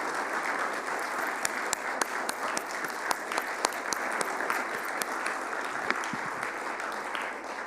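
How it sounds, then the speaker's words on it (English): A congregation at a Sunday service gives a round of sustained applause, dense steady clapping with no break from start to finish. "I think we need another round of applause for our beloved Lisa Ferraro."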